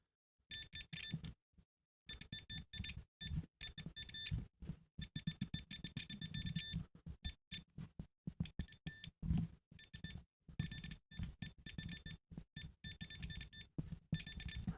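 A multimeter set to continuity beeps again and again as probes touch traces on a homemade tape PCB. The beeps are short, bright and close, in an irregular stop-start pattern, some in quick bursts and others held slightly longer.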